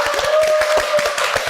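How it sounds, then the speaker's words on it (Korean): A live studio audience claps at the start of a Korean real-estate debate broadcast, a dense, steady patter of hands close by that holds for the whole stretch without a pause. "박수 한번 부탁드립니다."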